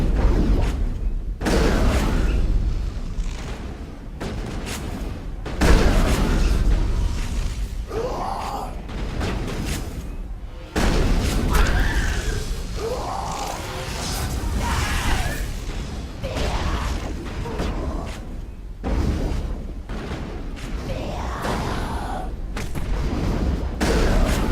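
Shotgun blasts in a Mass Effect firefight come as loud, booming reports, several heavy shots spaced across a dense, noisy battle din.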